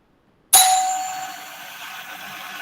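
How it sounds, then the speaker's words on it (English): An electric bell driven through an Arduino-controlled relay strikes sharply after a brief silence, then rings on with a bright metallic tone that slowly fades but keeps sounding to the end. "So the bell is activated for 3 seconds and it is deactivated for 3 seconds using this relay."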